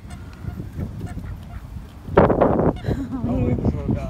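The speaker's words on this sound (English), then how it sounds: "Descendants of the royal swans from England." Swans descended from England's royal swans give a short run of loud honking calls nearby, over outdoor wind noise and people talking.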